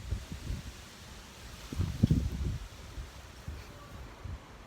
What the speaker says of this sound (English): I know it doesn't look windy, but it's windy.